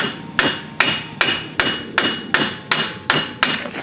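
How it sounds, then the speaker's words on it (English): A hammer strikes the front wheel hub of a 2003 Chevrolet Impala, nine sharp metallic blows in a steady rhythm about every 0.4 seconds, loud and close with short ringing decays between them. "Sometimes you hit it with a hammer."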